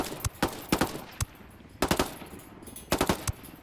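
Submachine gun fire in Ghost Recon Wildlands, a large-magazine SMG, heard as several loud, close bursts of rapid shots separated by short pauses, with no talking.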